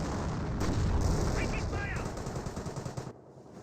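Battle sounds from the video game Company of Heroes, with mortar and gunfire forming a loud, dense, continuous rumble of shots and blasts that fades out near the end.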